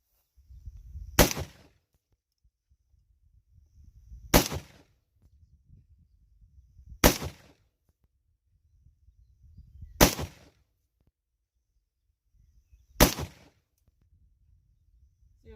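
Five M1 Garand rifle shots ring out outdoors at a clay target, each a sharp loud crack spaced about three seconds apart, with quiet rustling between them.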